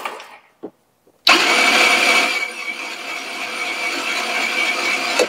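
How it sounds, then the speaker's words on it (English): A GY6 scooter engine with a no-spark fault is cranked over by the starter after a short quiet pause, a loud, steady whirring churn that runs continuously until the end. "Now let's crank over the engine and take a look at that waveform."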